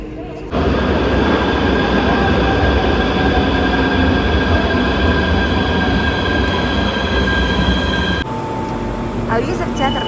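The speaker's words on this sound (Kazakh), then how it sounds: "Өз пойызымды күтіп тұрмын." An Almaty metro train pulls into the station, a loud continuous roar of motor and rolling wheels with a steady whine, heard close up and sustained until the sound drops off near the end.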